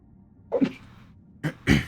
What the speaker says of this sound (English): Sorry, I just sneezed.